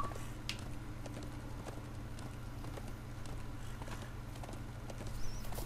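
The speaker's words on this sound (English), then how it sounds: "Let's go, little horsey." A horse trots in the Darksiders 2 video game with a quick, even patter of hooves over a low steady ambient hum, and no voices.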